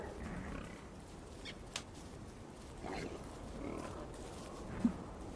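Faint, occasional pig grunts in the video game Don't Starve Together sound quietly over a soft, noisy game ambience.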